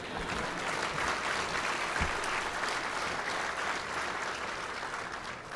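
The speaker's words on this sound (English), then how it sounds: "You can go ahead and clap." Keynote event audience applauds steadily throughout, a broad, even wash of many hands clapping in a large hall with no talk over it.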